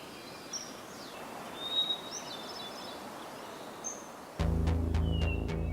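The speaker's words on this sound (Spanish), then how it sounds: "junto a sotos llenos de pájaros" Birds sing in riverside groves along the Tajo river: scattered thin chirps and whistles over a soft rustling outdoor background, before music abruptly takes over near the end.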